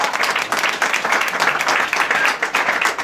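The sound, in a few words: audience applause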